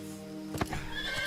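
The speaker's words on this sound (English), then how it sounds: "She has the fucking horse stomp on his hand." A horse whinnies in a short, loud neigh, followed by a few hoof stomps and clops, in a dramatic action scene with no talking over it.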